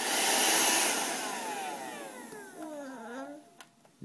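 A Shark vacuum cleaner whirs loudly at first, then its motor winds down with a falling whine and fades out, followed by a couple of small knocks.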